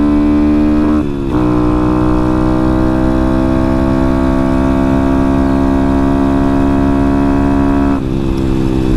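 A Honda Grom motorcycle engine hums steadily at close range, its pitch dipping briefly as the rider shifts gears, then holding a constant drone, on a cold day.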